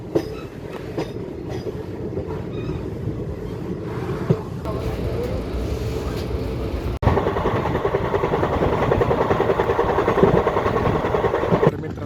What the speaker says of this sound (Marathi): ट्रेन निघाली, पाहू शकता तुम्ही.